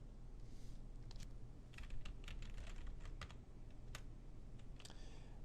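Fingers type on a computer keyboard in a quiet room, with quick, irregular key clicks in bursts over faint background hum.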